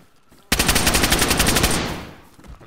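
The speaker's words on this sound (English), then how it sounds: "We had a shotgun fight." Rapid burst of gunfire in the video game DayZ during a shotgun fight, a loud sudden volley of sharp repeated blasts that trails off into quieter background noise.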